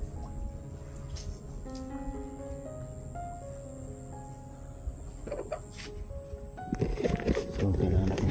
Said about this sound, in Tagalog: Lakas ng kulo ng tubig.